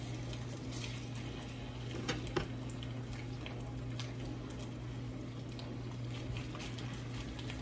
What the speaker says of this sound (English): Let those get started frying.